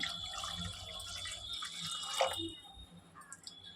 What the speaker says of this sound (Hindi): तो अभी ये 500 ग्राम इसमें हम दूध डाल देंगे।